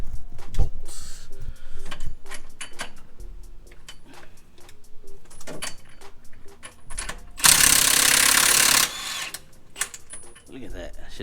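Bolts on a Pontiac G8 being loosened with a socket wrench: repeated sharp metallic ratchet clicks and clanks close by, with a sustained loud mechanical burst partway through, over intermittent workshop noise.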